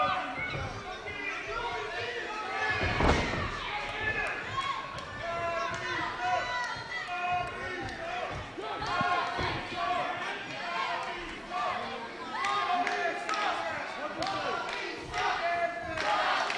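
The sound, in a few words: wrestling crowd loudly voicing disapproval, chanting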